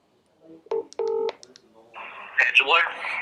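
Telephone keypad dialing tones for a phone call: a short run of distinct DTMF beeps, fairly loud, followed by a brighter burst of ringing or line tones with some faint background talk.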